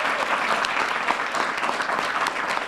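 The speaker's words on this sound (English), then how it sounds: "Give them a round of applause." A crowd applauds student highway safety ambassadors at a traffic safety campaign event, a steady, dense wash of clapping that holds loud and even throughout with no voices over it.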